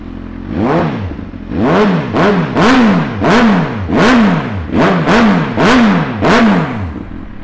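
Suzuki GSX-R1000 K8 sport motorcycle with a Yoshimura exhaust, started and blipped repeatedly: about eight sharp, loud revs rising and falling in quick rhythm, close by with no talk.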